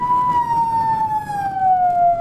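A high-frequency tone played through a Rubens flame tube: a single loud, pure, sustained whistle with overtones that glides slowly downward in pitch, over a faint background hiss.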